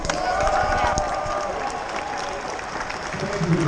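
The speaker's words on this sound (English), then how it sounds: "Can you give her a round of applause?" Outdoor rally crowd applauding Tessa Ashley, sustained clapping with some cheering spread across a large gathering, with voices mixed in.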